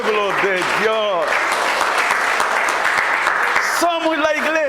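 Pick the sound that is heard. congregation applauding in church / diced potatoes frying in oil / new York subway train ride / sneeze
congregation applauding in church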